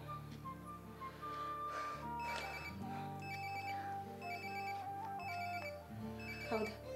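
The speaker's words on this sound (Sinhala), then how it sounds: "ආන්සර් කරන්න එපා වරුණි" A telephone rings in a dramatic indoor scene, its repeated electronic trill continuing steadily over a low musical background.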